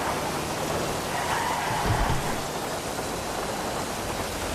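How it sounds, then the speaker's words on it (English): Heavy rain pouring in GTA Online, a dense continuous hiss with a low thunder rumble partway through, loud and steady with no talking. "You can just hear the rain."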